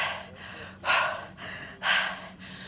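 Heavy, rhythmic breathing after a HIIT exercise set, with loud gasping inhales and exhales alternating close to the microphone, no talk.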